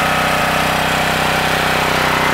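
Subaru engine on a 2700 PSI pressure washer, repaired with a new valve, running at a steady, loud idle with an even, rapid low throb and no voices.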